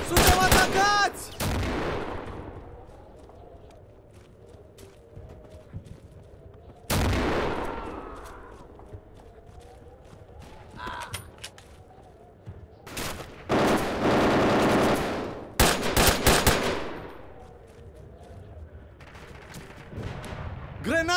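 Loud bursts of enemy machine-gun fire from Carpathian Crosses hammer in close, broken up by quieter gaps and heavy impacts. Shouting voices are heard over the battle.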